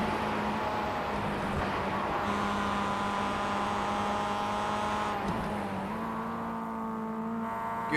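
MX-5 Cup race car in iRacing at Mid-Ohio, a steady droning engine tone with pitch drops as the gearbox downshifts, the whine stepping down around the middle and again near the end, no talk.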